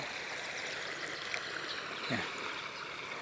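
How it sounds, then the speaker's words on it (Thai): Continuous rushing and trickling water flowing across a road at an overflow weir over a canal, a steady broad wash of sound with occasional faint distant noises over it. "ยังมีน้ำไหล ข้ามข้ามทางด้วย"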